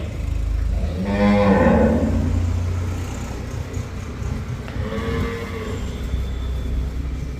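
A Jersey cross cow on a farm lets out a loud, drawn-out moo, then a second, quieter moo a few seconds later, over low outdoor background noise.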